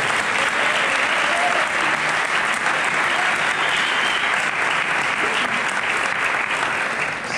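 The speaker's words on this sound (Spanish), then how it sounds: "yo lo que voy a pedir primero es un aplauso para la gente de la revista Panenka" A festival audience at a live talk on Italian and English football claps for the magazine staff, a steady, full wash of applause holding at an even level from start to finish.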